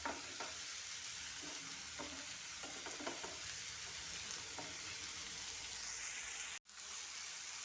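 Potatoes frying in a thick iron pan, a continuous soft sizzle with a few stirring scrapes early on and a brief cut near the end, no voices.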